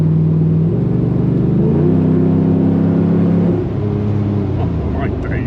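A 550hp LS3 V8 Defender by Squire Editions revs hard under throttle, a loud, close, rising roar that steps up in pitch and then settles into a deep, sustained rumble.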